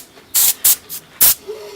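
Spray finish applied to a handmade wooden western plaque sign in short aerosol bursts, four hissing blasts of varying length up close with pauses between, no talking.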